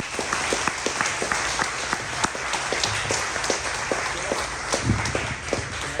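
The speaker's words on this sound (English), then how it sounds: "Can we please get a round of applause?" A lunchtime audience at a real estate investing panel applauds steadily, with dense, continuous clapping and some sharp individual claps standing out, moderately loud and close throughout.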